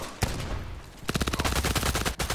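Gunfire in the online shooter Contract Wars: a single sharp shot, a brief lull, then a rapid automatic burst of evenly spaced, close, loud rounds running to the end.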